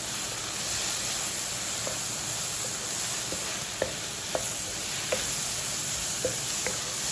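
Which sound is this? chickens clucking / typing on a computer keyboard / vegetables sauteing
vegetables sauteing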